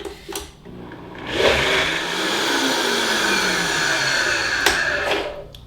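A Vitamix blender runs continuously, whirring loudly and steadily as it blends a creamy tzatziki cream base, with a couple of brief clatters at the start and near the end.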